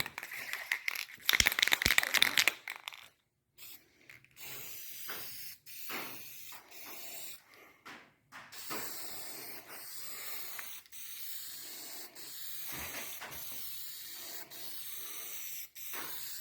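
Paint sprayed onto a part for a 1964 Comet Cyclone, a loud close hiss in a short burst, then quieter intermittent spray pulses with small clicks and handling noises between them.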